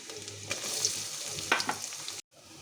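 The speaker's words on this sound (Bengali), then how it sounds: "কড়াইতে তেজপাতা জিরে ফোড়ন দিলাম। রসুন কুচি, আদা কুচি আর পেঁয়াজ কুচি দিয়ে দিলাম।" Chopped garlic, ginger and onion sizzle in a kadai after a tempering of bay leaf and cumin, a loud steady frying hiss with stirring scrapes and a sharp burst as they hit the oil.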